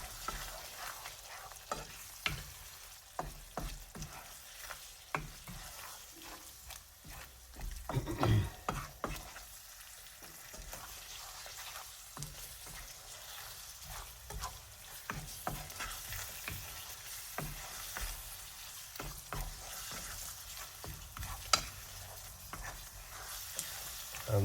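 Beef keema with fresh chilies sizzles in a pan as it is stirred, a steady frying hiss broken by irregular scraping and clinking strokes of the spoon, close and fairly quiet.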